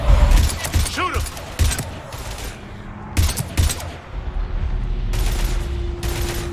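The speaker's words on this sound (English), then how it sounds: "I've got Lieutenant Vega with me, but we're taking heavy fire." Heavy gunfire in the video game Mass Effect 3, rapid bursts of shots close up in several clusters, with a low rumbling combat background and voices shouting between volleys.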